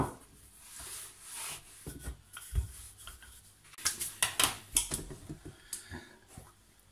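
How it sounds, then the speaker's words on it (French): Semolina brioche dough flattened with a rolling pin, soft intermittent rolling rubs and light knocks on the work surface, close and quiet. "Alors là on aplatit pour l'instant avec le rouleau."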